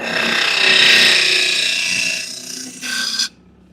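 A negative rake scraper cuts cherry wood spinning on a lathe, giving a loud, steady rasping scrape that eases off near the end, flares briefly and then stops abruptly.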